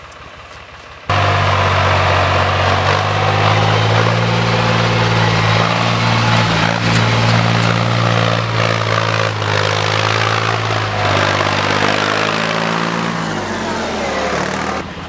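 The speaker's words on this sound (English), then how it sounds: "I have to drive the tractor pretty fast to get up through here" Tractor engine under heavy load as it is driven fast up a hill on a farm track, a loud close droning rumble with strong steady harmonics that starts abruptly and holds high revs.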